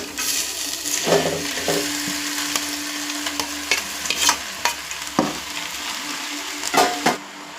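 Drumstick leaves and onion sautéing in a pan, a steady soft sizzle broken by repeated spatula scrapes and stirring knocks, close and fairly quiet with no talk.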